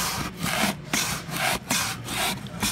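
Cardboard carton edges scrape and rub against the sides inside a case erector machine, a loud, steady rasping friction with rhythmic pulses repeating roughly every half second, no speech over it.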